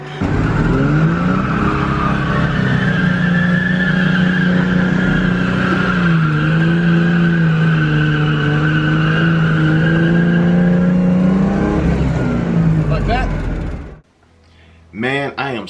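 A Ford Mustang Foxbody drift car holds a long, loud drift, engine droning steadily with tires screeching for about twelve seconds before cutting off, followed by brief voices.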